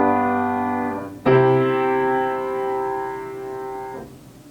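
A dominant chord resolving to the tonic: one sustained chord rings, then a second is struck about a third of the way in and held until it fades, clear and alone.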